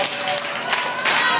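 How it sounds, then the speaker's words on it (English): Pub audience at a St. Patrick's Day band show clapping in unison, a few sharp broadband claps spread across a short burst over steady crowd murmur. "Put your beers down and clap four times."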